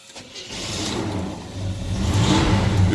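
A 1950 Chevy five-window truck with a 350 Goodwrench engine cranks briefly, catches and starts easily, then settles into a loud, steady running rumble that swells slightly as it revs, close up, with no voices.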